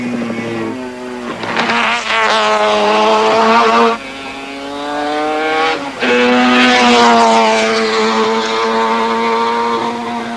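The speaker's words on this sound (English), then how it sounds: "Here comes the man, Moffat, the 43 Mazda." Moffat's #43 Mazda race car at Mount Panorama in the 1984 Hardies Heroes shootout, engine screaming loud and close through rising and falling revs, with brief gear-change dips as the rotary note climbs again.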